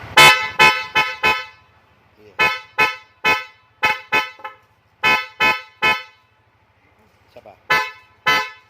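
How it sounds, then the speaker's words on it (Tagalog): Red old-model Corsa car horn honking in short sharp blasts, some quick doubles and triples separated by pauses, loud and close, with brief speech between bursts. "So, ito po yung Corsa horn na old model natin, yung may pula."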